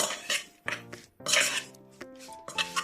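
Meat stirred with garlic and sunflower oil in a pot, giving close, irregular scraping and clinking strokes in short bursts.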